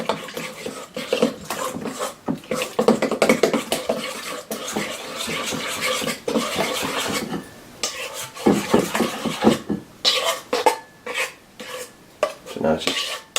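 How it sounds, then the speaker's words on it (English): Sourdough starter being stirred in a bowl with a utensil, giving a steady run of close scraping, clinking strokes with brief pauses. "you just want to mix this up so that when we add our flour, it all comes together properly"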